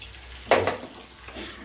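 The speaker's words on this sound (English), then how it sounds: "Let me just rinse it off." A brief splash of running water rinses a metal cooking pot at a kitchen sink, a short burst that fades, then a faint trickle before stopping.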